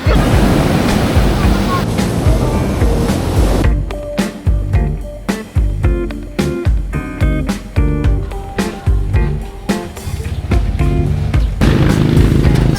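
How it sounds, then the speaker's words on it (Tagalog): Loud, steady roar of strong ocean surf and wind at Liwliwa beach, Zambales, that briefly gives way to bursts of choppy splashing and thumping before the roar returns. "Lakas ng alon."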